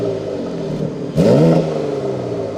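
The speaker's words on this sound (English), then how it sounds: "let's hear this car rev in efficient mode first." A BMW X3 M Competition SUV engine idles steadily in efficient mode, then revs up sharply once in a rising roar before settling back to a throaty idle.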